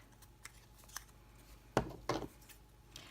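Scissors trimming the end of a paper tag cut from scraps, a few soft snips early on, then two sharper, closer cuts in quick succession, all fairly quiet in a still room.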